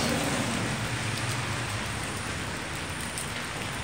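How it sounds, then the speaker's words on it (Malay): Light drizzling rain with wind at night, a steady close hiss of drops falling on surfaces that holds even for the whole stretch, with no voices over it. "Hujan gerimis"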